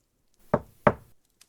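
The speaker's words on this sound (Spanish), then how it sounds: "Dio 2 golpes rápidos" Two quick, crisp knocks on a wooden door, evenly spaced about a third of a second apart, fairly close and isolated in an otherwise quiet room.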